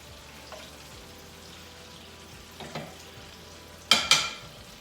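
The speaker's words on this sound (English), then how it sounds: "Alright, so our chicken is frying." Quiet steady sizzle of chicken frying in oil, broken by a few louder spits and crackles near the end.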